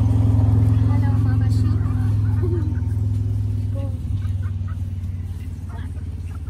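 A chicken at a petting zoo clucks in short bursts amid a steady low rumble and background chatter, with people talking nearby.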